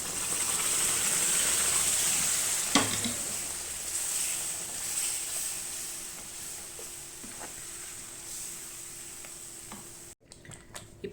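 Tomato and tamarind paste for tomato pickle sizzles steadily in a hot pan, a continuous bright hiss with occasional sharp pops and splatters, ending with a brief handling knock.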